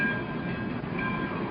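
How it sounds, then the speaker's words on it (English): Train engine rumble in an animated story, a steady loud rolling drone with a faint tonal hum, brief and uninterrupted, no voices. "along toward her came a great, strong engine"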